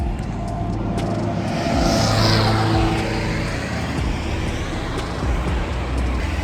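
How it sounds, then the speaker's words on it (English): Steady traffic on a road in the Atlas Mountains of North Africa, cars rushing past close by one after another in a continuous loud wash with a few swells as vehicles pass. "all the cars right behind me going"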